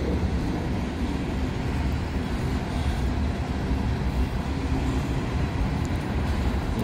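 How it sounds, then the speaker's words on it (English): Heavy freight train of full grain hopper cars rolling up a steep grade, a steady loud rumble and grinding roar of wheels and cars passing close by, unbroken for the whole stretch. "The springs are compressed, so it is one heavy train."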